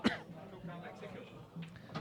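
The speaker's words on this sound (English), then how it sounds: "Sorry for me cough." One short cough sounds at the very start, close to the microphone, followed by a man's quiet speech during a darts match.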